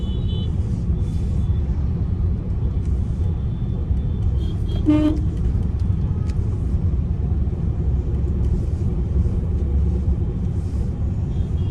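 A car horn toots once in a short burst of repeated beeps amid loud, steady rumbling road traffic, the engine and traffic noise continuing throughout with no talk.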